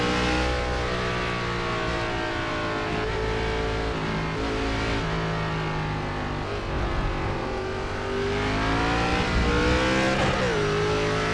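ARCA race car engine roaring continuously on the Charlotte Roval road course in iRacing, loud and steady with rising and falling revs through shifts and corners, no voices.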